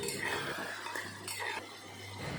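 Spice paste for Bihari-style egg curry stirred and fried in oil in a pan, a low steady sizzle under soft scraping and light clinks of a spoon on the pan, close and with no talking.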